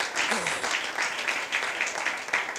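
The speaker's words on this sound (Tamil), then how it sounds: "பலத்த கைத்தட்டலோடு அவங்கள வர வைப்போம்." An audience at an Independence Day Christian gathering welcomes a speaker with steady applause, a dense, continuous clatter of many hands, and a voice briefly rises in the mix near the start.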